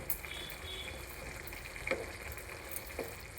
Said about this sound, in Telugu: కూర ఉడుకుతుందండి